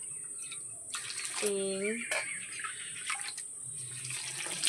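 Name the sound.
water poured into pot for cooking khichuri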